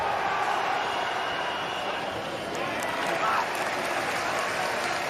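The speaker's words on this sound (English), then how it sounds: "the Australia bench up on their feet, applauding everything" Crowd applauding steadily inside a football stadium at a FIFA World Cup 2022 match between Australia and Denmark, a dense continuous roar of clapping with no breaks throughout.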